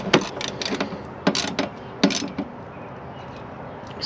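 A ratchet wrench snugs a brake line bolt on a car, with several short bursts of quick clicking heard up close and quiet pauses between them.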